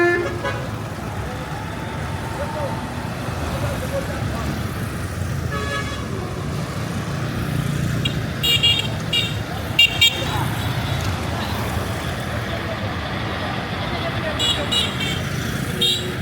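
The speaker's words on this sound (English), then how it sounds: "we are welcomed with endless line of heavy traffic" A slow column of heavily loaded trucks grinds along the Oyo–Ogbomosho Road in Nigeria, a steady low engine rumble with several short horn toots rising above it.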